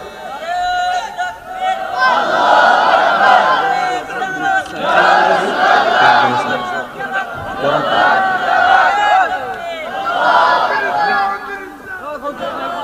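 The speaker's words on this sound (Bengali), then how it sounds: "জোরে তাকবীর দেন তো" A crowd at a Bengali religious gathering shouts takbir loudly in repeated roaring waves, several rising and falling bursts of massed voices, close and dominant throughout.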